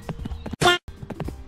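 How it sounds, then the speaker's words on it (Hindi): Horse hooves clip-clop during riding in a video game, a quick rhythmic string of hard knocks broken by a short bright burst, close and clear with no talk. "चलो हम तो घोड़े भी चला रहे हैं यहाँ पर"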